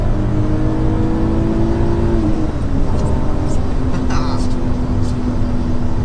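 A BMW Z3 M engine drones and shifts pitch while driving, a loud metallic hum that drops then holds steady under road and wind noise, with someone talking over it.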